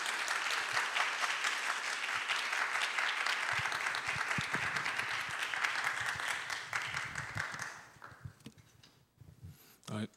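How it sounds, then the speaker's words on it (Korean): Applause from a congregation at a Sunday youth worship service, welcoming a speaker to the front: steady, full clapping for about eight seconds that then thins into a few scattered claps. "박수로 모시겠습니다."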